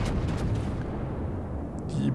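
A heavy battleship gun salvo from an enemy Großer Kurfürst in the naval game World of Warships, a dense, continuous low rumbling boom throughout with a few sharper high bursts near the end.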